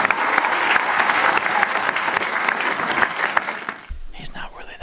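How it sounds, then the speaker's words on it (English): Audience applause for a podcast co-host, a loud, busy clatter of clapping that runs for about four seconds, then breaks off as a voice starts talking over the fading claps. "Ladies and gentlemen, round of applause"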